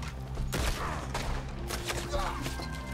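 Gunfire rattles in a fusillade during Red Dead Redemption 2 gameplay, loud and dense, mixed with thuds and game noise while a voice talks over it.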